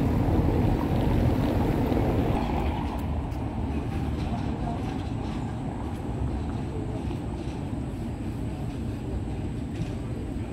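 A Prague tram pulls into a stop beside the planetarium, a steady loud rumble of wheels and motor with wind across the microphone, continuous for the whole stretch and with no clear talk over it.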